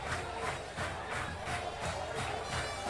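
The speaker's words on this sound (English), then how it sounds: "The crowd liking it, too. You hear a little chatter in the air." Steady murmur of crowd chatter in the stands at a 2022 high school football game, Clarksville NE at Springfield, with a dense, continuous wash of many distant voices and no single standout shout.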